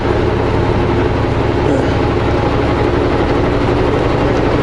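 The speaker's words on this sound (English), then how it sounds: "The engine brake and the fan going." A loud, steady low engine drone with a constant mechanical whir, like a truck's engine brake and fan running continuously, close and unbroken.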